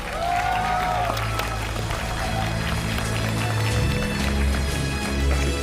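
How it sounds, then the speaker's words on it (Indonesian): Applause from an audience for the Indonesian badminton team at a broadcast event, a steady wash of clapping and crowd noise with low hum beneath and a brief tonal sweep early on. "Kita berikan tepuk tangan yang meriah"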